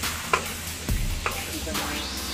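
Chopped garlic sizzles and crackles in a hot pan while being stirred toward brown for Chinese-style garlic butter chicken, a steady fry hiss broken by a few sharp scrapes and clanks of the utensil.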